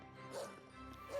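A dog in the Tales of Zestiria video game gives two short barks or yips about a second apart, faint and set against a low background of game music.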